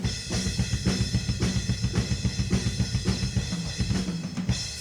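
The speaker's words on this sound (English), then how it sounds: "And here we can hear the bass drum" Bass drum in a drum kit recording, captured by a front omnidirectional microphone about 30–40 cm off the floor, thumping in a steady repeated pattern among the rest of the kit, loud and full with no talking.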